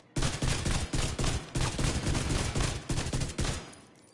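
An exotic rifle in a shooter video game fires in rapid bursts, about eight close, loud volleys with short gaps between them, with no voices.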